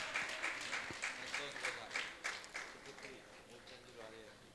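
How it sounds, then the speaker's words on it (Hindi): An audience claps at a religious gathering, a dense and steady wash of applause with sharp individual claps that swells and then gradually tapers, with faint voices underneath. "ताली बजा के सम्मान करें।"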